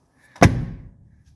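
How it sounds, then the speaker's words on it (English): Door of a 1984 Mercedes 300SD with unworn strikers shutting once, a solid close thud after a faint rattle, decaying quickly into quiet. "watch how the door shuts"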